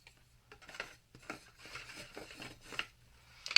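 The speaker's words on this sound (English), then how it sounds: "I'm just gonna try to burnish it best as I can this way since the box is closed" Paper being burnished by hand inside a closed craft shadow box, heard as soft, intermittent rubbing and scraping strokes, fairly close and quiet, with a sharper scrape at the very end.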